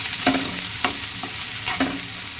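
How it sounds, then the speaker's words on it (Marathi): Onion frying in hot oil in a kadai pan, a continuous close sizzle broken by several scraping stirs of a spoon, with no one talking. "कांदा मस्त भाजून घेऊया."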